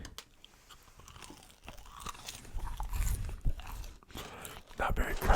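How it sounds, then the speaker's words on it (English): McDonald's French fries being eaten, with soft crunching and chewing up close, irregular bites alongside quiet mouth and bag sounds, no clear talk. "Let's eat a couple fries."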